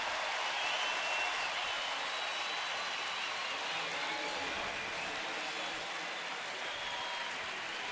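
A Saturday night crowd of over 26,000 at a Cleveland Indians baseball game against Houston claps and cheers, a steady distant wash of applause throughout.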